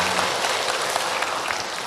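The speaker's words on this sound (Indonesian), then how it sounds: "Tepuk tangan untuk orang Karawaci" A studio audience at an Islamic lecture claps in a dense, steady burst of applause, close and loud for the whole short stretch.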